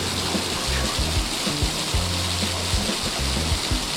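Constant roaring rush of a waterfall on Madeira, loud and close, with a low rumbling undertone throughout.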